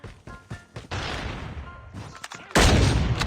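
SP-R 208 sniper rifle firing in Call of Duty Mobile, a few sharp shots with longer noisy bursts of gunfire and a loud blast near the end, close and fairly loud.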